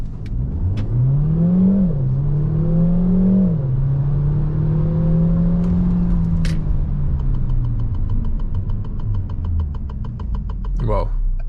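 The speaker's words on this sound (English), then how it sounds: "Holding the brake, we're gonna punch it here" A 2022 Peugeot 3008 GT Hybrid plug-in with 300 hp accelerates hard from a standstill, its drivetrain rising in a smooth whirring climb with a brief dip. The sound stays steady inside the cabin while a person talks over it.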